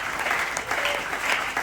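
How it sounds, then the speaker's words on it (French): A church congregation claps and cheers, a steady wash of dense applause filling the room at a fairly loud level throughout. "Est-ce que tu peux acclamer?"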